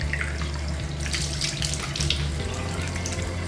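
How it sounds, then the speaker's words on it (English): Tap water runs steadily into a sink as hands are washed during a skincare routine, a close, continuous splashing rush with no talking. "Next I have to wash my hands just to get rid of any of the oily residue, and then I like to put some water on my face."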